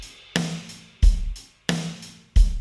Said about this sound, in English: So here we have a kick.